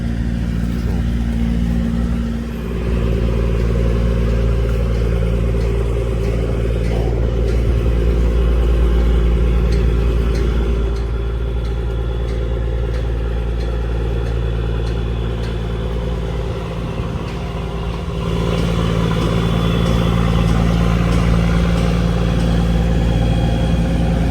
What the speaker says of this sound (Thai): อันนี้เป็นเสียงเครื่องหกสูบนะ